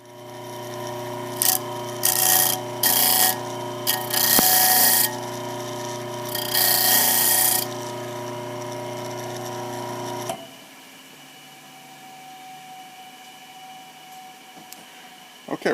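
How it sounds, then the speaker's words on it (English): The motor of a hammer tail arcing jig hums steadily with a whirring mechanical drone, punctuated by several loud bursts of grinding noise, then cuts off, leaving a quiet room. "So the next thing we're going to do is turn the motor on"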